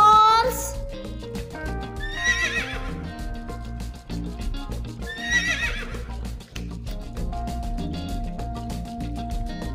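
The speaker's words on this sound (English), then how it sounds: "H for horse." A horse whinnies twice over a bouncy children's song, with a music-box melody running throughout and the neighs standing out loudly in the mix.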